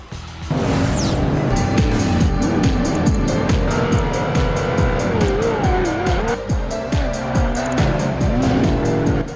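Racing cars in Project Gotham Racing 2 on Xbox, loud revving engines shifting through gears with rising and falling pitch, tire squeal and skids throughout.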